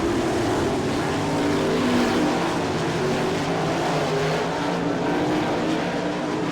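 All Star Circuit of Champions race cars at Attica, Ohio, roar around the track on the final lap in a dense, continuous wall of loud engine noise.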